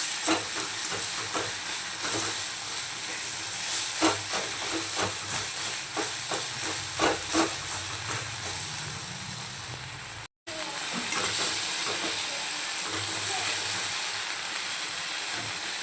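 Crushed green chili thecha sizzles and fries with chopped bitter gourd in a pan and is stirred. The hiss is steady and close, with scraping stirs throughout and a brief dropout midway.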